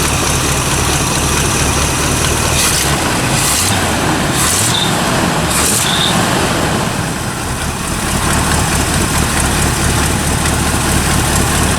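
A 1974 Corvette C3 engine idles close by with a steady, loud low rumble, fitted with a tuned-up intake manifold, running alone without talk.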